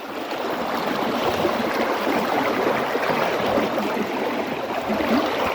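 Dense, steady rush of a flooded river overflowing its banks across a field fills the whole stretch, loud and broadband with no pauses or voices.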